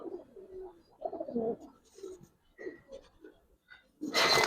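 Giribaz pigeons coo softly in low, throaty bursts with short pauses between them. The calls are close and fairly quiet, and a brief louder noise cuts in at the end.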